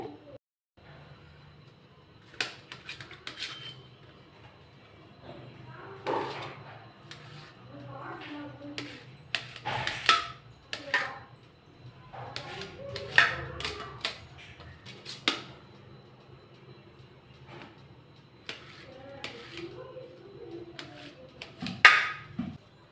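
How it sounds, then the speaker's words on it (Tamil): Muskmelon being cut into small pieces on a board, irregular sharp knife taps and chops scattered throughout, close up, with faint background hum and some quiet speech. "சின்ன சின்ன பீஸாக கட் பண்ணிக்கலாங்க"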